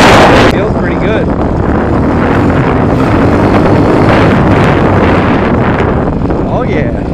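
A 2019 TaoTao TBR7 230cc dirt bike engine idles loudly and steadily close by, with heavy wind rumble against the microphone.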